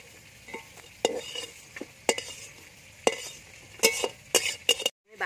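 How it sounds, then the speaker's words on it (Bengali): Water bugs frying in a pan give a steady low sizzle, broken by sharp clinks and scrapes of a utensil stirring them at irregular intervals, close by. "এটা কিন্তু ধীরে ধীরে ভাজতে হবে।"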